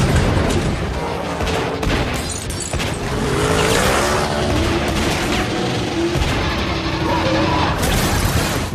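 The Camaro Z28 F-Bomb race car roars loudly and continuously up close, with sharp popping cracks scattered through the run.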